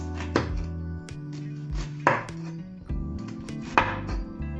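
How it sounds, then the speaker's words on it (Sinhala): A knife slicing bitter gourd on a board, giving three distinct crisp cuts spaced about two seconds apart, close and clear, with faint tonal background sound and no talking. "කරවිල පෙති කපාගෙන මැද තියෙන ඇට ටික අයින් කරගන්න"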